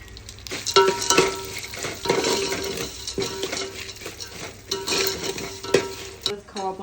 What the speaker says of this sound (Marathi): आता हे ड्रायफ्रूट सगळे आपण भाजून घेऊया तुपामध्ये।